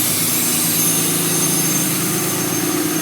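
A 6.7 L Cummins diesel engine in a 2007 Dodge Ram 3500 dually with a 4-inch AFE turbo-back exhaust and EGR/DPF delete idles close by with a loud, steady low rumble and constant hum that never lets up.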